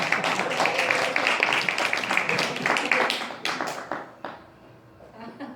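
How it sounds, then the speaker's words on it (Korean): An audience breaks into applause during a patriotic lecture in Korea, brisk clapping that fills the room for about four seconds, then thins out into a few scattered claps and fades away. "박수 해 줘."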